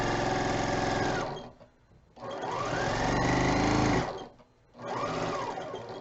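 A sewing machine stitching quilt fabric runs in three close, steady bursts of rapid whirring and needle clatter, with short quiet pauses between them.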